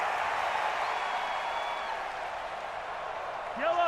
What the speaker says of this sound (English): I think there's a little more going on here than just crowd noise, though.